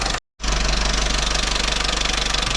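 Vauxhall Corsa C engine idling during an engine flush, a steady close rumble with an even pulsing beat, broken by a brief gap near the start and then continuing unchanged.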